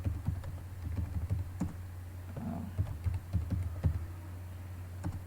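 Keys clatter on a computer keyboard in quick, irregular taps over a low steady hum, close and moderately loud, with no voices.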